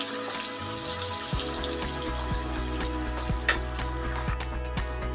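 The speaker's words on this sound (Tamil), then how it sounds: "மசாலா பச்சை வாசம் போகிற வரைக்கும் நல்லா வதக்குங்க ஃப்ரெண்ட்ஸ்" Ground masala paste for chicken curry sautés in a pan with ginger garlic paste, a continuous close sizzle and crackle broken by regular spatula scrapes and taps, with faint background tones and no speech.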